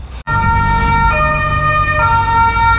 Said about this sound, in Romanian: Salvare!